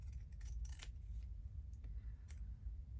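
Scissors snipping through paper ephemera during a craft session, a few short crisp cuts scattered over a low steady background hum, close and fairly quiet.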